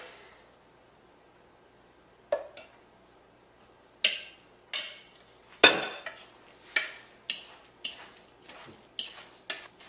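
Dry and wet muffin batter for paleo morning glory muffins is folded together in a bowl: quiet at first, then a spoon scrapes and knocks against the bowl in a steady series of close, sharp strokes.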